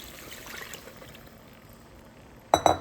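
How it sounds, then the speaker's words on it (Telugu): Broth water poured into partly cooked chicken for a gravy, a short burst of splashing liquid arriving near and fairly loud at the end after a quiet kitchen background. "వాటర్ని తీసుకొని ఇంకా చికెన్లో వేసేసుకుందాం"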